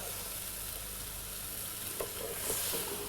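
Clam and shrimp blaff stew simmering in a pot on the stove, a steady soft bubbling and sizzling hiss with a few faint stirring clinks, heard alone.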